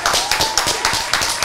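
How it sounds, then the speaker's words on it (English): Audience members clap during a podcast-style conversation, a brief burst of loud, close handclaps in an uneven rhythm. "Round of applause."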